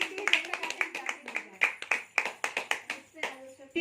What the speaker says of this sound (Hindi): अरे भैया स्वागत के लिए तालियां बजती रहनी चाहिए।